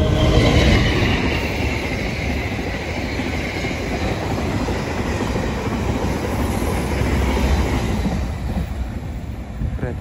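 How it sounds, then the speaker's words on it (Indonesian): The Argo Wilis passenger train with a panoramic carriage rushes past at close range on a curve at full speed, a loud continuous roar with rattling wheels on the track that holds steady for the whole stretch. "Kereta berbelok, tapi posisinya kecepatannya tetap banter, tetap full speed ini tadi."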